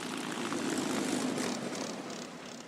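A WWII P-51 Mustang propeller fighter plane's engine gives a steady, loud, continuous drone with a rough low rumble that holds evenly throughout, with no voices.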